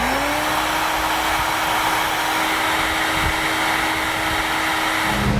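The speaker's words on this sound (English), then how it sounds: "I'm going to be using a heat gun." A heat gun blows steadily close by while shrinking heat shrink tubing over a crimped trailer wiring connector on a 2010 Subaru, a loud continuous roaring whoosh with a steady whine throughout.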